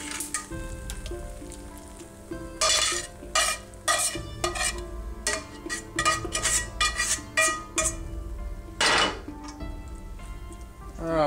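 A Mongolian BBQ-style stir fry crackles in a pan while a utensil scrapes and stirs it in repeated, uneven bursts, close and fairly loud over a steady sizzle.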